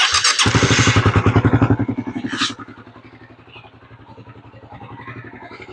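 A Raider Fi motorcycle engine, just fitted with a replacement clutch cable, idles loud and close with a steady rapid thumping pulse, a brief rev swelling near the start before settling back to an even idle.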